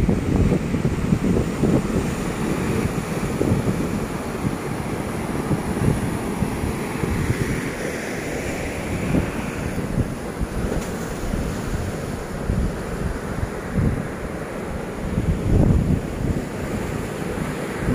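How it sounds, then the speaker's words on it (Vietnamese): Sea waves crash and wash onto the shore at North Lang Van beach, a steady churning surf heard close by with gusty wind buffeting the microphone and no voices. "hơi nước biển đánh sóng là bắn ướt luôn cả điện thoại này"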